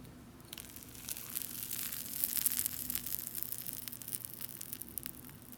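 Freeze-dried fruit dropped into water gives a steady fizzing, crackling hiss with fine popping grains, sustained and fairly quiet throughout.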